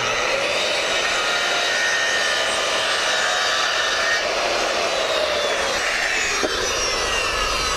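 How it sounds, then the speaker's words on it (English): Saw making a miter cut through wooden fascia board during a rotten fascia repair, a loud, continuous whining roar that holds steady for several seconds, close up and alone. "Now we have a perfect miter cut."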